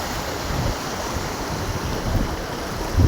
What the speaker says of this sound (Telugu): అదంతా ఫోర్స్గా పోతుంది చూడండి వాటర్